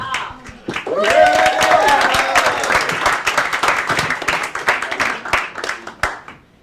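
Dense, sustained applause from a comedy club audience at Gotham Comedy Club fills the room for several seconds, loud and steady with a few cheers and voices mixed in before it tapers off.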